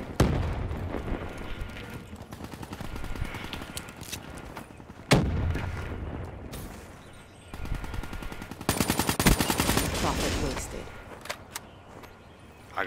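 Gunfire in the video game Call of Duty: Black Ops III, repeated rapid automatic bursts and single sharp shots, loud and close, with a player talking over parts of it.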